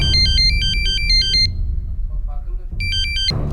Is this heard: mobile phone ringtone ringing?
yes